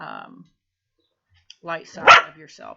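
A single short, loud dog bark cuts in among a person's speech, close to the microphone.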